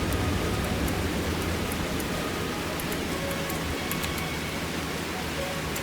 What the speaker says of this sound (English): It is actually raining hard.